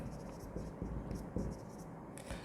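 Chalk or a marker scratches across a board in short, scraping strokes during an accounting lecture on financial statements. It is faint and close, with no speech.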